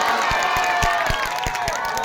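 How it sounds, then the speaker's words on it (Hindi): Crowd applause at a mushaira, a poetry gathering, rising as a dense sustained wash of clapping mixed with cheering and shouts, with sharp individual claps standing out near the front. "एक बार अपने करके मेरी जोरदार तालियां बजाइए"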